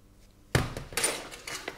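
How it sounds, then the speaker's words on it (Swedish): A wrench works a nut loose on a Volvo 940 engine: a sharp metallic clank followed by a few lighter scraping and knocking sounds, close and brief, with no talking. "Nu ska vi ta och släppa på den här muttern som är här."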